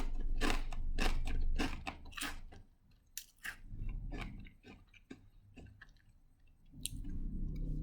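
Walkers Baked Cheese & Onion crisps are crunched close up in a string of sharp, dry bites and chews, dense at first, then sparser with brief pauses, and no voices.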